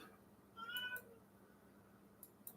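A cat gives a single soft, drawn-out meow up close in a quiet home, followed by a couple of faint, brief clicks.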